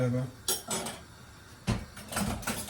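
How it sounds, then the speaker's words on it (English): Metal clanks and a lid knocking against a cooking pot of pumpkin, a few sharp close hits spread over a couple of seconds with a voice talking underneath. "we're gonna check on the pot, see what's going on"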